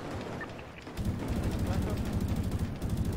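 Sustained rapid gunfire in a battle royale match, a steady stream of loud repeated shots that becomes denser and heavier partway through. Speech is audible beneath it.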